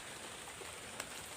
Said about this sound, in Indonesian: Ini hujan gerimis